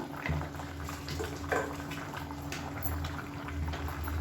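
Water bubbling at a rolling boil in a cooking pot before rice goes in for biryani, a steady close simmering churn with a few brief clinks and splashes.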